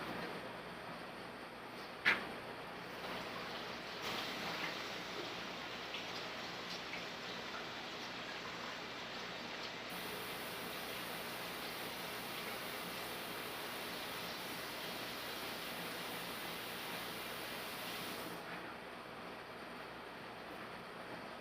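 Steady broadband rushing of running water, continuous and fairly close, with a brief click near the start and no talking.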